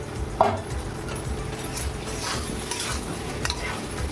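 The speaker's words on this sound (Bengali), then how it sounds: "এবার আমি ভেজে রাখা আলুগুলো দিয়ে দেবো ওর মধ্যে" Fried potatoes tipped into spiced oil, a soft steady frying hiss with a clatter as they land and a few light scrapes of a spoon against the pot.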